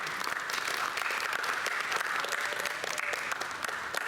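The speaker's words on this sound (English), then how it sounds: "So a huge round of applause for these kids." Continuous applause from an audience at a school annual day event honoring a women's blind cricket team, steady and dense throughout with no talk.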